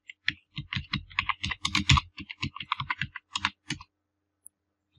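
Rapid typing on a computer keyboard, a close, dense run of crisp key clicks that stops abruptly, followed by near silence.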